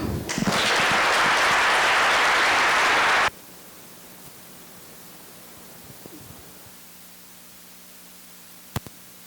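Audience applause welcoming lecturer Gina Ford at the Goldsmith Lecture, a loud, dense burst of clapping that fills the room for about three seconds, then cuts off abruptly into quiet room tone.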